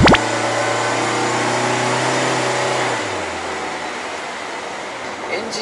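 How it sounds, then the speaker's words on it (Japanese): A Toyota TownAce van's engine revs high and loud inside the cab, a sustained droning hum that stays steady for about three seconds and then eases off into a quieter cruising rumble. "エンジンが回った時はうるさいよね。"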